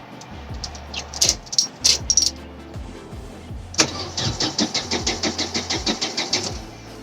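A car engine cranks after a new battery is fitted, with a few short starter whirs and then a long run of rapid, evenly spaced cranking pulses that rise in loudness but never quite catch.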